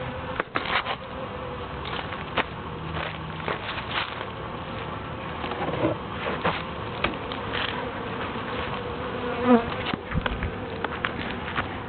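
Honeybees hum steadily around an opened hive, a dense, continuous buzz close by with individual bees passing near and some light rustling and handling noises.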